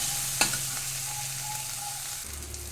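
Ginger and garlic frying for fenugreek chutney while being stirred, a steady close sizzle with one sharp scrape of the spoon near the start and soft stirring after.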